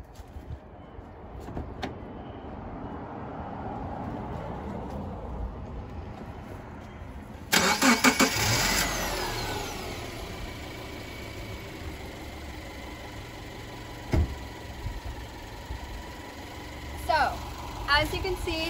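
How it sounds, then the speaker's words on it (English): During a jump start, a car engine turns over and then runs at a steady idle, with faint clicks and knocks around it and no speech. "the good car is running, this is getting charged"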